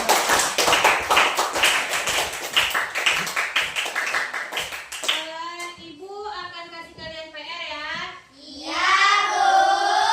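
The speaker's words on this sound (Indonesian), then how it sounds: "tepuk tangan untuk Daus." Schoolchildren in an Indonesian classroom give a burst of dense hand clapping for about five seconds, then the clapping stops and children's voices and an adult's talk follow.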